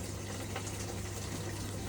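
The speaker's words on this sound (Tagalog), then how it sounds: "So ayan guys, gumana na yung ating washing machine. So may tubig na binibigay." Water rushes steadily into a washing machine through a newly repaired inlet valve, a continuous close gushing and filling sound with a low hum underneath and no talk.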